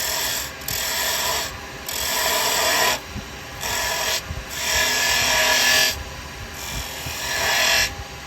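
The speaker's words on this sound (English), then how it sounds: "I'm doing it by rolling the chisel over." A carbide woodturning chisel cuts spinning wood on a lathe, giving a steady close rasping scrape in bursts that pause briefly as the tool is rolled over the workpiece.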